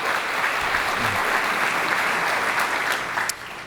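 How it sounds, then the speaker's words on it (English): Audience applause for event sponsors fills a room, dense steady clapping from many hands that holds for a few seconds, then tapers off. "If we could please have a round of applause for all the sponsors."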